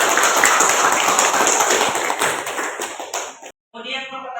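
Loud classroom applause from a group of students, dense continuous clapping for about three seconds, then a brief silence followed by a voice speaking.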